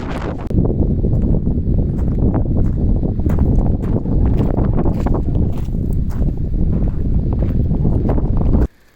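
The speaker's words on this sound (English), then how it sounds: "Sorry, there's a lot of wind" Strong wind buffets the microphone on top of Bald Hill in Manitoba's Riding Mountain National Park, a loud, continuous roaring rumble with gusty bursts that cuts off sharply at the very end.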